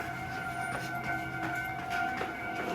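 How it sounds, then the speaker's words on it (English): A train in Japan rumbles steadily, with a sustained tonal whine and faint clattering over a continuous background roar, as if pulling into a station. "Oh, here comes the train."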